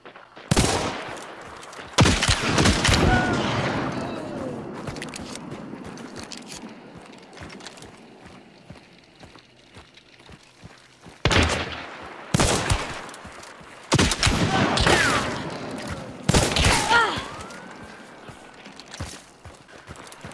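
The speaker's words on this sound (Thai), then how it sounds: "ตอนแรกนึกว่าเพื่อนยิงเล่น" Bursts of game gunfire in Hunt: Showdown, several loud, sharp volleys of shots separated by quieter stretches of footsteps and movement, with close, punchy clusters of firing early and again near the end.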